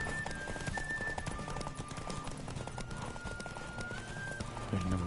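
Horse hooves gallop in a rapid, steady clip-clop rhythm during a horse race in the video game The Witcher, with a faint tonal game sound running over the hoofbeats.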